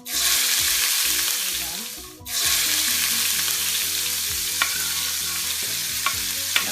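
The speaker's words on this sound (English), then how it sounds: "you're gonna put in the onions to saute them." Chopped onions sizzle in bacon grease in a pan, a loud steady frying hiss with a brief drop as they are stirred, then a few light utensil taps.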